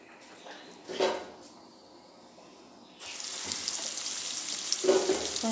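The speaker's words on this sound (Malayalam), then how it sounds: "ഓയിൽ നന്നായി ചൂടായി വന്നാൽ നമ്മൾ അരിഞ്ഞു വെച്ച സവാള ഇതിൽ ചേർത്ത് വഴറ്റിയെടുക്കണം." Chopped onions sautéing in hot sunflower oil for a fish biryani, a broad steady sizzle starting partway through, with a couple of brief clinks of utensil or pan handling nearby.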